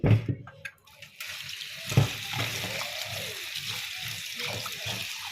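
Water runs from a tap while something is rinsed thoroughly in a kitchen for chitoi pitha, a steady splashing hiss with a couple of sharper knocks and splashes near the start.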